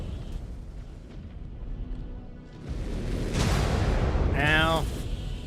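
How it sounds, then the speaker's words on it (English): Missile explosions in the MechWarrior 5 Clans video game burst in as a loud, rumbling broadband boom, building to a sustained blast with a rising whine riding over it and game speech mixed underneath. "Incoming missile."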